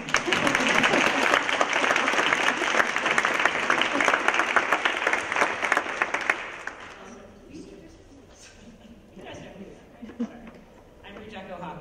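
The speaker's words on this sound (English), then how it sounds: "Let's clap for them" Audience applause at a museum symposium, dense and loud clapping for about six seconds that then fades out, followed by quieter room sounds and someone beginning to speak.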